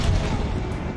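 Heavy grenade blasts in Call of Duty Black Ops Cold War, a dense roar of booming explosions filling the whole second at close, loud range.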